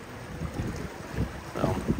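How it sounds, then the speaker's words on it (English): Wind gusts buffet the microphone on a Gulf fishing pier in uneven rushes, with faint water movement underneath and no voices. "It's probably gonna be hard to hear me because of wind."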